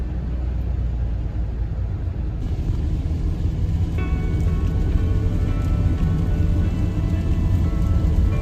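Heavy rain pours down steadily in a loud, dense hiss, with a low rumbling undertone throughout, unbroken and close by, with no voices heard.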